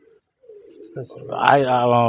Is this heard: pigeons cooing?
yes